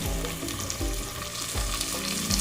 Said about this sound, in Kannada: ಬೀನ್ಸ್ ಸ್ವಲ್ಪ ಕಚ್ಚಿ ಸ್ವಲ್ಪ ಎಣ್ಣೆನಲ್ಲಿ ಫ್ರೈ ಆದರೆ ಚೆನ್ನಾಗಿರುತ್ತೆ